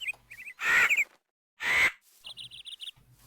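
Crows being killed in the game GregTech New Horizons give two loud, harsh squawks, each about half a second long, between quieter chirping calls and short clicks.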